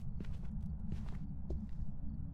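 Ghost footsteps during a hunt in Phasmophobia, a run of soft, irregular thuds over low background hum, moderately close with no talking.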